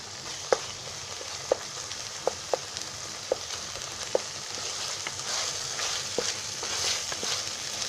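Ginger garlic paste frying with masala in oil, a steady close sizzle punctuated by regular sharp clicks of a spoon stirring against the pan.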